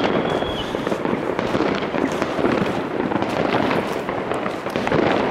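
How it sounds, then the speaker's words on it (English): New Year's Eve fireworks bursting continuously in a dense, loud, crackling barrage of overlapping bangs and pops with no pauses, heard alone without talk. "These fireworks used to be more interesting when I was a kid."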